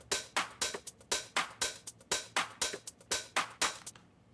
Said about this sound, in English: I just took this top loop. I believe it's a cymatics top loop,